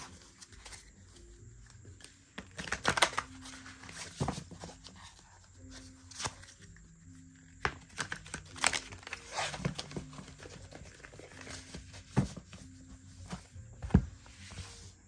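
Stiff tarot cards are shuffled in a series of crisp riffling bursts and taps, close up, with pauses between attempts.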